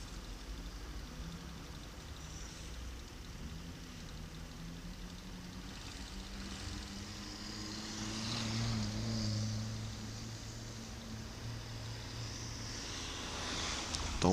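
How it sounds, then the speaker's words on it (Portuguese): A 2018 Honda CG 160 motorcycle engine with an annoying fault noise that makes it sound like an old bike. It runs as a faint, steady drone that swells slightly midway, with no talking. "Como vocês podem perceber aí o barulho da moto, ó."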